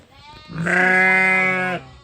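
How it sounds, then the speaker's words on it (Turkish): A single loud, drawn-out bleat from a ewe in a barn, close by, rising after a quiet moment and holding for about a second before cutting off; windy outside. "Bu koyunların gördüğünüz hepsi hepsi dişi koyunlar."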